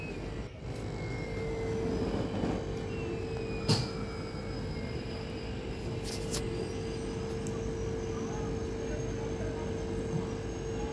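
Inside the Howrah–Katwa Intercity Express as it pulls out of a station, a steady rumbling drone with a constant hum runs throughout, broken by a few brief clanks.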